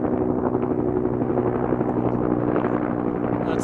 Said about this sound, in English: Those are like attack helicopters.